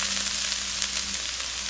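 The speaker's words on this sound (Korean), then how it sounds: "한 번 더 달달달달 볶아주시고요." Dried bellflower root (doraji) is stir-fried in a pan, giving a brief, loud, even sizzle close at hand.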